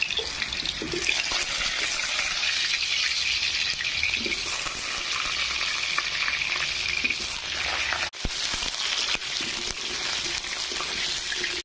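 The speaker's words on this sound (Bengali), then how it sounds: "এই তো কড়াইয়ের মধ্যে আমি তেল দিয়ে দিলাম আলু ভাজার জন্য" Potatoes fry in hot oil in a wok, giving a dense, steady, close hiss that runs throughout, with a brief break near the end before the sizzle resumes.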